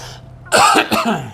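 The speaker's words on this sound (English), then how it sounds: "Clear my throat like I always do." A person clears their throat forcefully, two rough bursts close together, near and fairly loud, after a short quiet lead-in.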